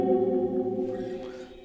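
A guitar played through a reverb pedal set to full mix, all effect, gives a washed-out, sustained ringing chord with no pick attack that slowly fades over less than two seconds.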